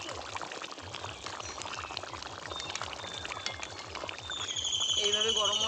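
Ground garam masala paste poured into a simmering duck curry made without onion or garlic: a soft, rhythmic bubbling that gives way to a louder wet pour near the end.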